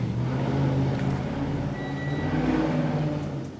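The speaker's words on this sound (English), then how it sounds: "Let's all listen to your stupid junk car so we know what you're about" A run-down junk car engine idles and runs steadily with a low, droning hum and faint whirring, close and continuous throughout.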